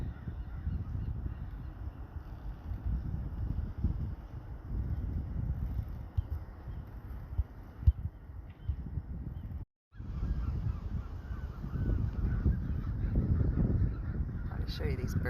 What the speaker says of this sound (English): I'll show you these birds flying.